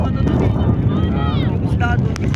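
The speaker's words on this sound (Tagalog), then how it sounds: "Lakas ng hangin." Strong wind buffets the microphone in a steady, heavy rumble, with people talking faintly underneath.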